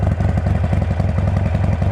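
Harley-Davidson Sportster engine fitted with Bassani Firepower slip-on exhausts, idling with a steady, loping low-pitched lumpy pulse close up, no voices over it.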